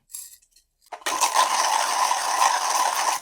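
A KinGrinder P1 hand coffee grinder gives a few light clicks and rattles of beans. Then steady cranking starts up, a close, continuous gritty burr-grinding crunch with a faint rhythmic rasp.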